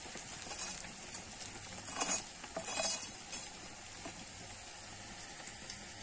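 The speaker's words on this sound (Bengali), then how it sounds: "আমি একইভাবে ডালগুলো ভেজে নেব" A steady low sizzle of lentils frying in oil for dal chanachur, with a couple of soft scraping clinks from a utensil partway through.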